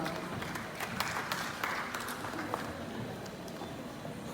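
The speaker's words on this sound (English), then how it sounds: "Dear parents, please clap for them, friends, family, well-wishers, clap for them." At a skills centre graduation ceremony, a crowd of parents, family and friends applauds the graduates, a steady dense wash of clapping with a few sharper hand claps standing out.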